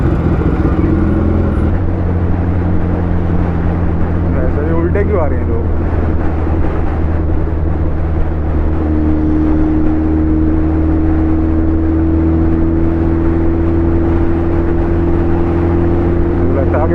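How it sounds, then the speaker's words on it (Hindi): Heavy road traffic around a moving motorcycle, dense engine drone and rumble from many vehicles with a steady hum rising later, close and continuous under a rider's talk. "क्या ट्रैफिक है यार, क्या ट्रैफिक है।"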